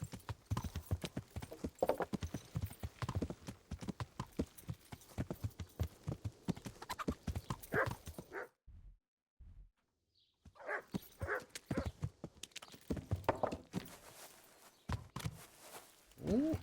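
Horse hooves clip-clop at a steady walking pace in the medieval game Kingdom Come Deliverance, close and rhythmic, mixed with footsteps and game sounds, dropping to near silence briefly midway before resuming.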